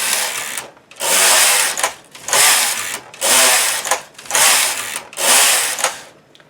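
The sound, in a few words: knitting machine knitting rows of garment yarn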